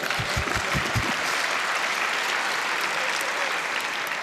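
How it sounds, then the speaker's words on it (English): Audience applause at the 29C3 hacker congress opening, a loud dense wash of clapping from a large hall, with a few heavy thumps at the start before it settles into an even roar. "you can clap if you want."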